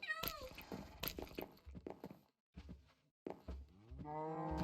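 Cats meowing in the Minecraft game, a house cat and a barn cat giving several short, clear meows with brief pauses, and a longer rising meow at the end.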